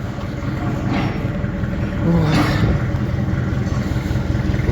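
A Kentavr SX tractor drives past outdoors, its steady engine drone rising and swelling near the midpoint as it passes close by, then continuing at a constant level.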